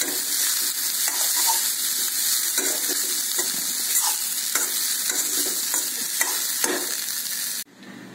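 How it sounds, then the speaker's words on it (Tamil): Boiled horse gram is tipped into a hot frying pan and stirred, giving a steady close sizzle broken by repeated spoon scrapes and clinks against the pan, which stops abruptly near the end. "இப்போ நம்ம வேக வச்சிருக்கிற கொள்ளை சேர்த்துக்கலாம்."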